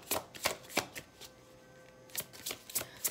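Dark mirror oracle cards being shuffled and pulled by hand, a few crisp riffling bursts at the start and again near the end, with a quieter pause between.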